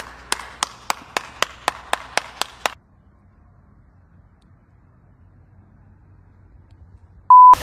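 About nine evenly spaced hand claps from a small group, close and crisp, honoring the detailer after a full detailing of a Kia Picanto; they stop after a few seconds, leaving quiet room tone and a short electronic beep at the end.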